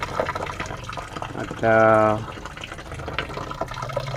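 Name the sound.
water poured in to prime a water pump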